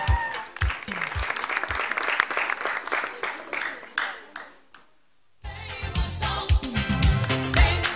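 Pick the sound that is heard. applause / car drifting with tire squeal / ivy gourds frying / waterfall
applause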